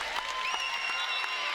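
Sustained applause and cheering from a college men's basketball crowd honoring the all-time leading scorer at American University, with steady clapping and long piercing whistles on top.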